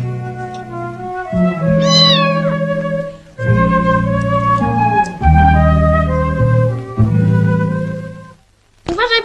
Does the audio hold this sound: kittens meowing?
yes